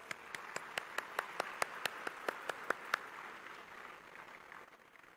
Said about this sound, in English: Please give her and all the rank holders a big round of applause.